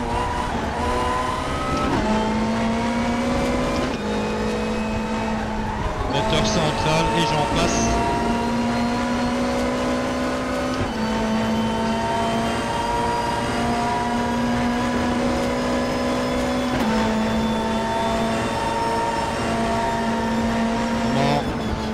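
Race car engine in the RaceRoom racing simulator, a loud sustained drone with steady harmonic pitch that shifts through gear changes over twenty seconds, with a person talking over it.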